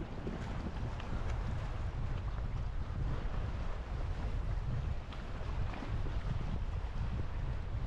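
Strong wind gusts across choppy Taal Lake, a steady roar of wind buffeting the microphone over the wash of waves, continuous and fairly close, with no one talking.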